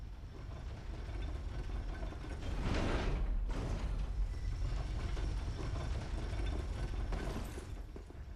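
Dark Souls 3 elevator grinding as it moves, a steady mechanical rumble with creaking swells, louder in the middle and easing off, with no voices over it.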